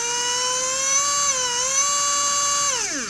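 A radio-controlled car's electric motor, fitted with an Acuvance Tachyon Airia, spins up to a high, steady whine near full speed. The loud pitch wavers slightly, then drops sharply as the motor winds down.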